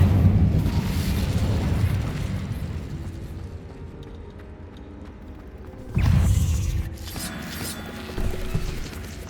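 A fire spell cast in Hogwarts Legacy, heard as a low rumbling burst that fades over several seconds, then a second sudden whoosh-boom and a smaller flare near the end, with no talk.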